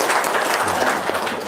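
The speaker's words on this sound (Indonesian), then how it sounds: "Tepuk tangan dong." An audience breaks into brief applause, a dense burst of clapping from many hands lasting about a second and a half, close and fairly loud.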